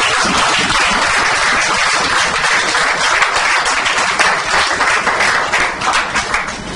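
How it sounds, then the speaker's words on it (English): Loud, dense applause from an audience at a Toastmasters club installation ceremony, sustained clapping that thins slightly toward the end. "let us give a big round of applause to these superstars"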